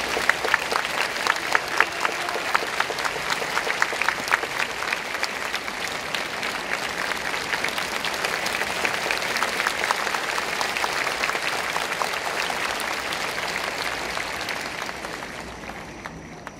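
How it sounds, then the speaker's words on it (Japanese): An audience at a military band concert, a joint Ground Self-Defense Force and police band performance, applauds to welcome the conductor with sustained, dense clapping that holds steady for a long stretch before tapering off at the end. "どうぞ大きな拍手でお迎えください。"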